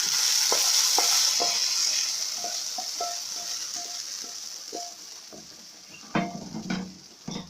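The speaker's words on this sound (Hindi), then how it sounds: "प्याज का देखिए गोल्डन ब्राउन कलर हो गया अच्छा सा। अब हम इसको निहारी में शामिल कर देते हैं।" Golden-brown fried onions go into a pot of beef nihari. A bright hiss of hot oil fades gradually while a spoon taps and clatters against the pot, ending in louder scraping knocks.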